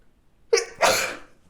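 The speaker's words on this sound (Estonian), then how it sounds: "takkajärgi aevastused" A person sneezes twice in close succession, a short sharp burst followed a moment later by a longer, fuller one, loud and near against an otherwise quiet room.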